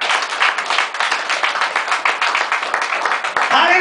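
A church congregation applauds the Lord, with steady rhythmic clapping filling the room and a few voices mixed in.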